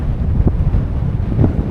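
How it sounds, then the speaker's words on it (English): Strong wind buffets the microphone in a continuous low roaring rush, loud and close, with no voices. "it's just too bloody windy"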